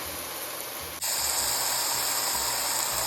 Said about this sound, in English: I'm going to add the red meat to the onions.